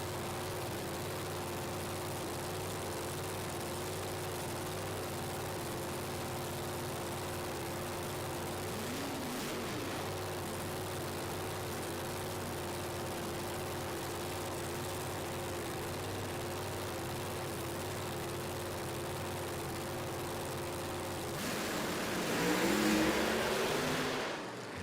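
A drag racing car with a big motor in a small body idles with a steady harmonic drone at Snowbird Outlaw Nationals in Bradenton, then swells into a louder, rougher roar near the end.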